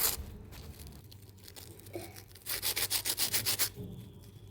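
Crisp fried cornets made from taco bread being broken or bitten, giving a fast run of sharp, rhythmic crunches after some softer rustling, close and with no one talking.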